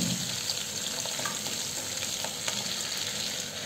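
Finely chopped ginger and green chilies sizzle and crackle in hot oil with cumin seeds, a steady, close frying hiss with small pops, no voices.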